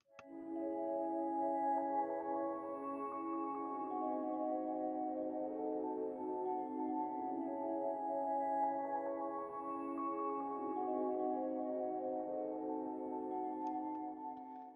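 A MIDI pattern played on a soft, ambient synth pad for a beat; sustained chords swell and shift evenly across the stretch, quiet and smooth, with no voices.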